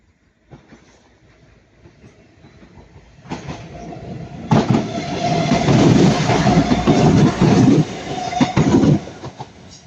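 Class 195 diesel unit 195025 passing through Ardwick: a quiet approach builds into loud rumbling with rhythmic wheel clatter over rail joints and a faint metallic squeal, the roar holding steady nearby as it passes.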